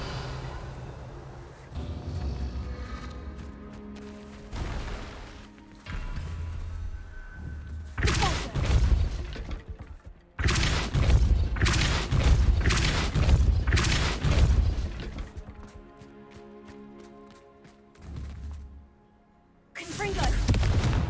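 Confringo blasting spells from Hogwarts Legacy go off in a series of heavy booming explosions and thuds, several blasts clustered closely with brief lulls between them, loud and near.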